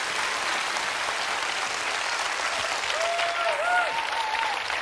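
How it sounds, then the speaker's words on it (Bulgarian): An audience breaks into sustained, dense clapping that fills the whole stretch at a steady level, with a few faint voices or whoops rising over the applause near the end. "Аплодисменти за Мария още веднъж, моля ви."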